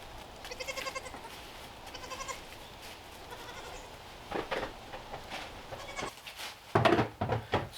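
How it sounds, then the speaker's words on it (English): Nigerian Dwarf goats bleat repeatedly at morning feeding time in a barn pen, with several wavering cries close by and a louder cluster near the end, among rustling and shuffling. "we're about to feed our Nigerian Dwarf goats here"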